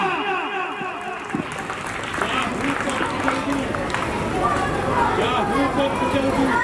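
Audience applause at an open-air Ramleela stage performance, a broad wash of clapping swelling under loud amplified voices and crowd chatter, with talk continuing over the clapping.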